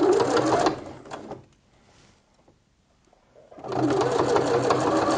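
A sewing machine runs fast stitching a seam on a quilted jacket, loud and close, stopping for about two seconds in the middle before starting again, with no speech.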